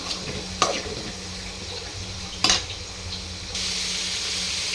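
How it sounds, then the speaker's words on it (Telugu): Brinjal pieces for stuffed brinjal curry fry in oil over a low flame, giving a steady soft sizzle with two sharp stirring clatters and a brighter hiss near the end, with no voices. "చూడండి, ఆయిల్లో బాగా వేగుతుంది."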